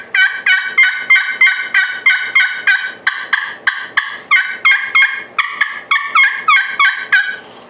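Acrylic-bodied pot-style friction turkey call with a rubber-coated outside, worked in a long run of loud, piercing yelps and clucks in quick rhythmic bursts, very close and alone.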